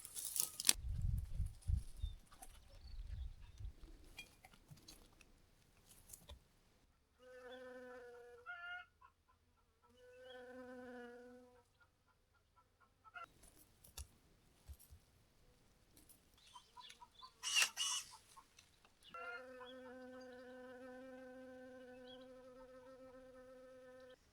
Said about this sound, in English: All my rosemary bushes are absolutely full of bees today.